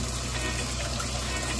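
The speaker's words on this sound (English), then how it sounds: "So what you do is you get the water and you wet it." Warm water poured or splashed onto a newly hatched chick's soiled rear in a hatching room, a steady close-up watery gush running the whole time with no talk.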